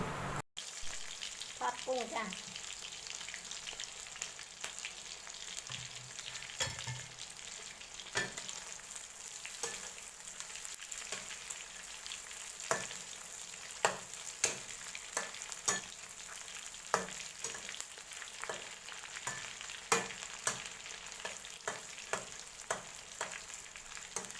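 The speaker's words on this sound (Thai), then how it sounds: "เดี๋ยวป้าจะทอดกุ้ง" Shrimp frying in hot oil gives a steady, quiet sizzle with scattered crackles and pops, plus occasional stirring clatter, continuous throughout and without speech.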